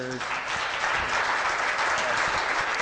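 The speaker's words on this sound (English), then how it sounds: "I think we owe Steve and Mr. Ramsey a round of applause" A debate audience applauds steadily, a dense wash of clapping that stays loud throughout, with a brief voice at the very start.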